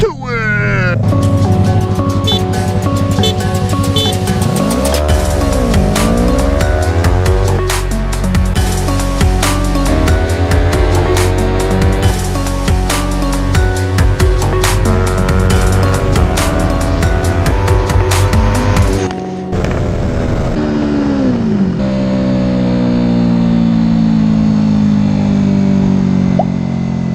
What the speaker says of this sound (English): The 2016 Yamaha R3 drag racing the 2016 Kawasaki Ninja 300.